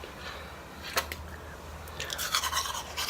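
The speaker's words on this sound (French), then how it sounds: "La brosse à dents est vraiment douce." A soft toothbrush scrubs teeth with Primark charcoal toothpaste, giving close, faint bristle scratching and wet brushing strokes that grow busier toward the end.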